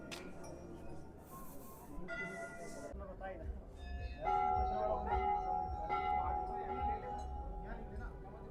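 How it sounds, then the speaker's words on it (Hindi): Many small bells hang at a Hindu temple in Uttarakhand, ringing with clear sustained metallic tones and clinks over crowd murmur and voices, growing louder midway. "कितनी सारी घंटियां लगी हैं मम्मी।"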